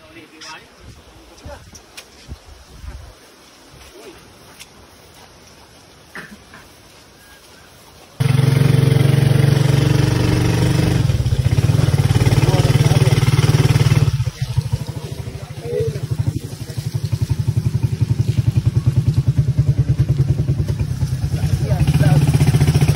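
A motorcycle engine runs steadily and loudly while hauling calamansi during a storm in the Philippines, starting after a quieter stretch and continuing as a constant drone with people talking over it.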